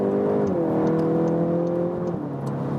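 A VW Golf GTI Clubsport engine hums steadily under load, its pitch stepping down twice as gears change with the shift paddles in sport mode, heard from inside the car.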